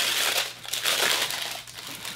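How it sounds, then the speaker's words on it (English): Thin plastic wrap crinkles and crackles as it is pulled off the top of a Funko Box of Fun Freddy display box, a close, continuous rustle with small sharp crackles, no talking. "I'm not going to be all that careful with the little plastic wrap on the top"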